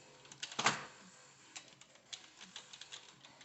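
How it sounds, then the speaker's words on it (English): Clicks and clacks from a mechanical keyboard built out of a broken Smith Corona typewriter, with one sharp loud keystroke followed by a run of lighter, irregular key clicks at close range and no talking. "It's like a typewriter."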